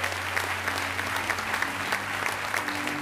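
A large audience at the closing ceremony of the Gérardmer film festival applauds, a continuous dense roar of clapping holding steady and loud, with a low hum underneath and no voice on top.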